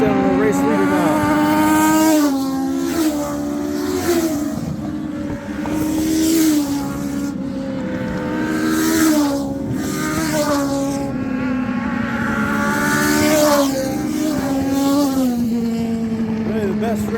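NASCAR-style stock cars race around a freshly paved short track before a packed crowd, engines rising and falling in pitch as they pass, loud and continuous, with a commentator's voice heard over the roar.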